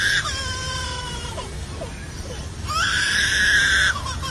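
A lyrebird imitating a crying infant, producing loud wailing, sobbing cries close up: a long wavering wail, a pause with whimpers, then another sustained scream-like cry.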